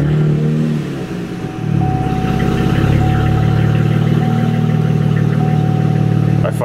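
A car engine cranks and catches, then settles into a steady, loud running hum with a faint whine above it, close by and continuous.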